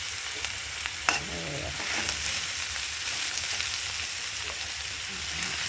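Eggs and salt fry in a pan, giving a steady, close sizzle with a few soft scrapes and clinks as the mixture is stirred; no one speaks.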